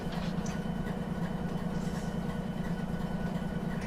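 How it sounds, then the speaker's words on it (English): Locomotive engine of a supply train in the Run 8 train simulator, a steady, loud low diesel drone with a throbbing pulse, droning on without a break and no voices over it. "Every time you hear the engine just go boom"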